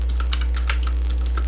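Typing a gcc compile command on a computer keyboard, a quick irregular run of crisp key clicks, close and clear, over a steady low electrical hum, with no talking.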